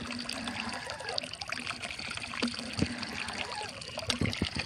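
Water gurgles and trickles steadily from a fuel-free groundwater pump, a close, continuous splashing stream with a few brief louder spatters and no talking.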